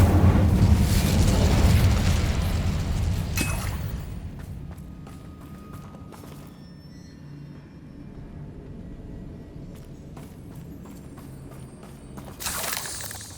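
An Incendio fire spell cast in Hogwarts Legacy, a loud burst of fiery blast at the start that rumbles and fades over several seconds, followed by quieter scattered game effects and a brief flare near the end.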